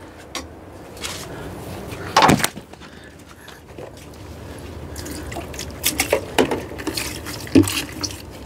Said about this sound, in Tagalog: Ito natin lagay yung tubig